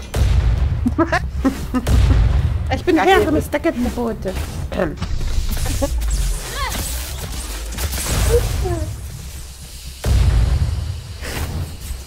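Firecrackers pop and bang in the video game Night of the Dead, a loud, close string of sharp blasts mixed with excited German talk throughout.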